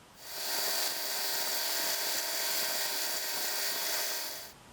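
A belt grinder fitted with a coarse conditioning belt polishes the blades of an Imperial Kamp King pocket knife, giving one steady, close, hissing whir for several seconds that fades at both ends.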